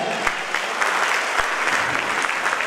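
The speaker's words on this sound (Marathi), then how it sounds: "तर सरांच्या या बहारदार मार्गदर्शनासाठी एकदा जोरदार टाळ्या" An audience claps enthusiastically for a speaker's guidance session, a dense, sustained burst of applause from a crowd with a few sharper individual claps standing out.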